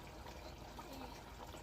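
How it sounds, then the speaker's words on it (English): Water is poured into a pot while cooking at home, a soft, steady liquid wash beneath children's and an adult's voices. "Want to pour more water"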